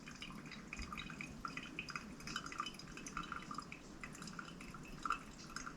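Hot water is poured over ground coffee in a pourover, a faint, steady trickling and dripping with light clinks, heard up close and quietly throughout.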